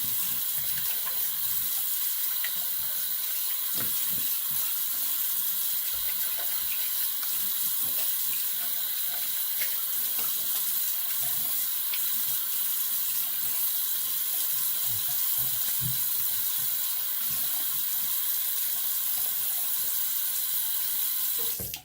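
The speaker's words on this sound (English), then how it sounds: "all right, cold water rinse." A tap runs steadily into a sink for a cold-water rinse after a wet shave, a constant close hiss of flowing water lasting over twenty seconds with no talk.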